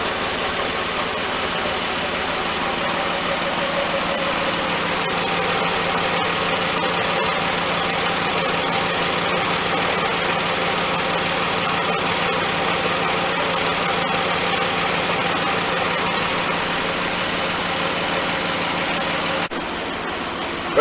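A 2011 Dodge Journey engine idles steadily after a repair, a close, continuous mid-pitched hum with a faint knocking ticking beneath it, without pause for the full twenty seconds.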